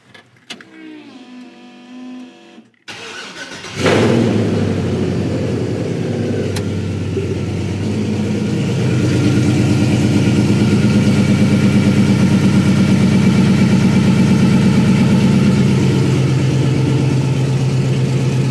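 A 1955 Chevy engine cranks over and catches, then settles into a steady, loud idle that swells slightly and holds. A quieter mechanical whir comes before the start.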